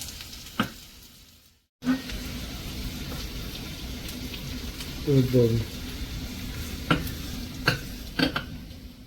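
Tadka tempering for dahi balle sizzles steadily in a pan, with a spoon stirring it in a brief burst of scraping clinks near the middle and a few sharp taps later, all close and moderately loud.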